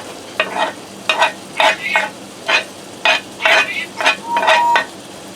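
Ground beef and diced onion browning in a pan, a soft background sizzle broken by about a dozen quick scraping stirs of a utensil in an uneven rhythm.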